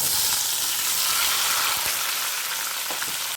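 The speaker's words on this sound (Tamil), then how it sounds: "பாருங்கள் எண்ணெய் நல்லா காஞ்சிருச்சு. இப்போ இதில் நம்ம கட் பண்ணி வச்சுருக்க தக்காளியை சேர்த்துக்கலாம்." Chopped tomatoes hitting hot oil in a pan for tomato pickle, a loud, dense sizzle that holds steady throughout with slight stirring scrapes, no talking.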